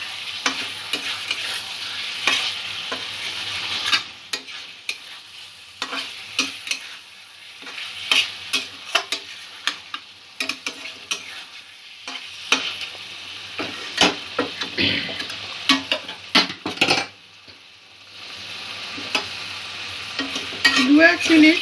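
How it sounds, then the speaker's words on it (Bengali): Potatoes and cauliflower stir-fry with spices in a pan, sizzling steadily while a spatula scrapes and stirs in quick irregular strokes, clattering against the metal throughout, with no voices. "দু 1 মিনিট মশলার সঙ্গে আলু কপিগুলো কষিয়ে নিয়ে এবারে জল দিয়ে দেব।"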